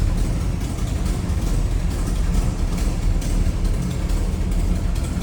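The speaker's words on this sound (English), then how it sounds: "Side exiting exhaust, so let's hear from both sides here." A 1959 Plymouth Fury's side-exit exhaust idles with a steady, deep rumble and a throaty exhaust note, continuous and fairly loud throughout.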